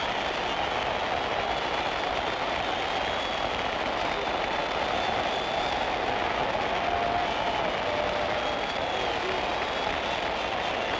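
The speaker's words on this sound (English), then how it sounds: "Listen to the crowd." A boxing crowd roars at the Floyd Patterson vs George Chuvalo fight, a dense, constant wash of cheering that stays loud and even throughout, with no break or swell.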